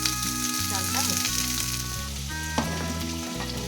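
Rice and potato pieces fry in hot oil in a pan for khichdi, giving a loud, continuous close-up sizzle with occasional stirring scrapes and no voices.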